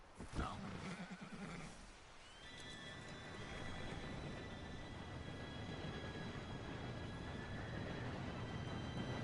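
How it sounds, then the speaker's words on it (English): A train pulling in from Red Dead Redemption 2: a horse whinnies and hooves clop briefly, then a rising rumble of rail cars with high metallic brake squeal grows steadily louder and closer. "Train should be here any minute."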